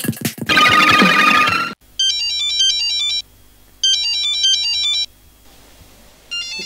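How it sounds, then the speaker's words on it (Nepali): A mobile phone ringtone plays in a comedy sketch, sounding as a repeated electronic melody in three bursts separated by short pauses, loud and close, with a burst of other noise just before it. "एकछिन है मेरो त्यस्तै ठाउँबाट फोन आयो"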